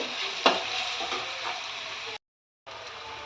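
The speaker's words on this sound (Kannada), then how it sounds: "ಟೊಮೊಟೊನ ಹೀಗೆ ಚೆನ್ನಾಗಿ ಹುರ್ಕೋಬೇಕು, ಚೆನ್ನಾಗಿ ಬೇಯಬೇಕು, ಹಣ್ಣಾಗೋವರೆಗೂ ಟೊಮೊಟೊ." Tomatoes fry and sizzle in a pan for susla mandakki, a steady crackle with a brief stir and scrape, then a short gap of silence before the sizzling resumes.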